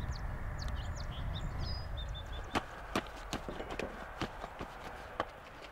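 A young horse's hooves clop in an uneven series of sharp knocks during training, fairly faint against a steady outdoor background with birds chirping lightly.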